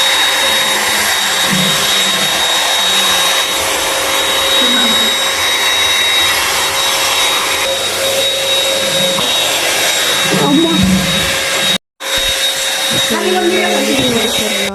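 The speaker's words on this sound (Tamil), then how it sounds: "சோ இது வந்து புது ஹேர் ட்ரையர் யூஸ் பண்ணிட்டு இருந்தாங்க." A new hair dryer in a village home runs as a steady, loud whine for most of the stretch, briefly cutting out near the end before resuming, with faint voices in the background.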